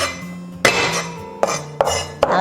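Garlic cloves smashed flat with a blade on a cutting board, four sharp, loud thwacks at uneven intervals with a short rattle after each, no talking.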